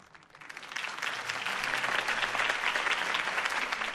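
Video game applause from a sizable crowd at a campaign speech swells within the first second into steady, dense clapping that holds at a fairly loud level to the end.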